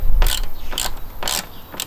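A hex tool tightens a bolt on the side of a third-generation Suzuki DL650 V-Strom L7 fuel tank, giving three brisk, close ratcheting bursts over a faint background hum.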